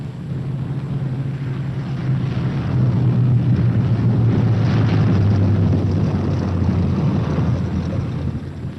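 B-17 bomber planes arrive at a wartime airfield, their engines making a steady, loud, low propeller drone with wind rush that swells slightly and holds throughout, with no voices.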